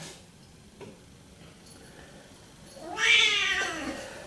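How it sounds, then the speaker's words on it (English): A single loud kitten meow rises near the end after a quiet stretch with faint ticking. "this is my kitten. It makes a lot of noise"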